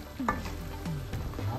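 Shrimp dropped into a hot frying pan for dinengdeng, sizzling steadily while a utensil scrapes and stirs in a few distinct strokes, close and fairly quiet.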